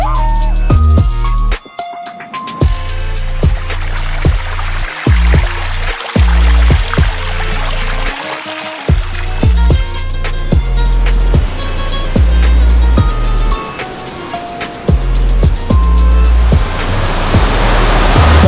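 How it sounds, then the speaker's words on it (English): Materuni waterfall in Tanzania roars as a steady, loud wash of falling water, with heavy low rumbling and occasional wind buffeting throughout. "That's a huge waterfall."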